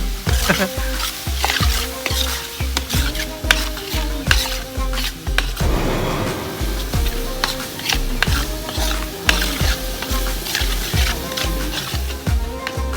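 Oil sizzles in a pan while a spoon stirs and scrapes in rhythmic strokes, close and continuous, before boiled corn is added for a Gujarati corn curry; a voice speaks faintly in the background.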